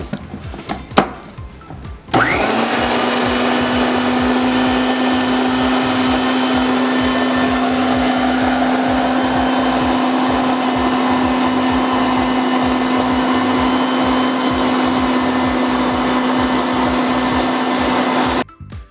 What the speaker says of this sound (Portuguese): Agora vamos processar novamente.